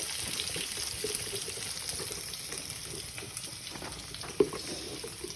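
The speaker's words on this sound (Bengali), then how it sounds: "আলু দিয়ে বেগুন দিয়ে একটু নাড়াচাড়া করতে হবে।" Potato and eggplant pieces frying in a pan, a faint, steady sizzle with soft stirring scrapes and one brief louder knock near the end, no voices.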